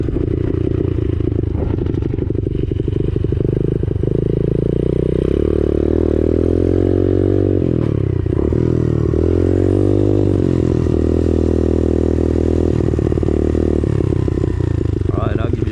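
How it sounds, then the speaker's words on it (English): An X-Pro Storm 125cc pit bike engine runs loud and steady close by, its drone wavering as the throttle rises and eases through a top speed run, with wind buffeting and clatter throughout. "I'll give you the actual takeoff so you can see how quick the bike is."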